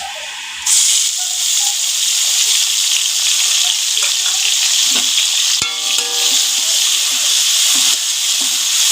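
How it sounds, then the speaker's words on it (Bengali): Chopped onion with whole cumin drops into a hot kadai and erupts into a loud, steady close sizzle that continues unbroken, with one brief clink partway through. "ওইদিকে পেঁয়াজটা ভাজা হচ্ছে"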